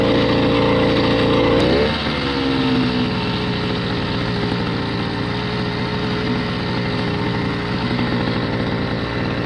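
The small engine of a motorized bicycle drones loudly and steadily as it pulls the bike up a hill. Its pitch dips briefly near the start, then it settles into a continuous buzzing run.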